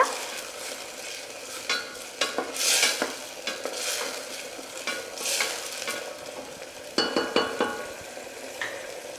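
Brinjal being stirred in a pan with turmeric powder and salt while it fries: a spoon scrapes and clatters against the metal over a low sizzle in uneven bursts, moderately close, with no voices.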